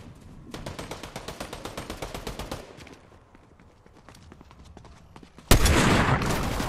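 Rapid gunfire from shotguns and sniper rifles in the video game Fortnite: a steady rhythmic burst of close, punchy shots for about two seconds, a quieter stretch, then a loud harsh blast of noise near the end.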